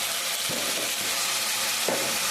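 Tomatoes fry in a pan with a steady, close sizzle and hiss, broken by a few soft stirring scrapes.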